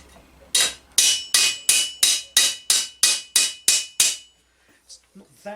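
About a dozen sharp, evenly paced hammer blows ring on steel while shaping the ankle pieces of armour greaves, each strike crisp and close, then a pause and a few softer knocks.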